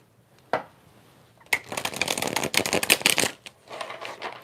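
A deck of Trionfi della Luna tarot cards is shuffled close by: a single soft tap, then a long rapid riffle of crisp card flutters, a brief pause, and a second shorter riffle, with no talking.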